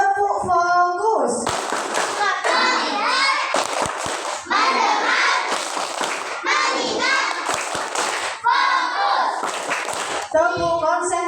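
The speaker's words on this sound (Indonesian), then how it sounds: "Tepuk fokus." Schoolchildren at a madrasa's Maulid Nabi gathering perform the 'tepuk fokus' clapping chant, loud bursts of rhythmic hand claps mixed with shouted children's voices, repeated in quick patterned groups.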